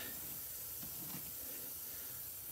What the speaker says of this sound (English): the leaking air noise is fingernails on the chalkboard to me